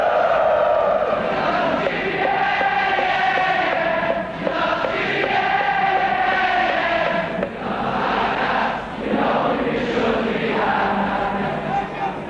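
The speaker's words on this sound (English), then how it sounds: "The music the crowd sings is the music that Liverpool has sent echoing around the world." The Kop crowd at Liverpool sings in a massed chant, loud sustained voices swelling and dipping as the song carries across the stand.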